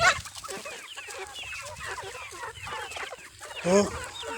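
Farm chickens kept in a banana-grove setting cluck in a steady, close, busy chorus of overlapping calls, ending with a louder burst of clucks near the end.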